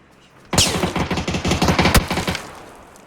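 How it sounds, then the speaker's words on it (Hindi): A loud burst of rapid automatic gunfire in PUBG on PC erupts suddenly, firing in a fast rhythmic volley before trailing off into an echoing decay. "गोलियां चली हैं।"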